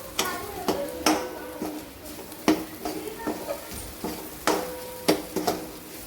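Spatula scrapes and sharp metallic taps ring out at an uneven pace as ambari masala and red chilli powder are stirred and sautéed in a pan for a capsicum (shimla mirchi) bhaji, with a faint sizzle underneath.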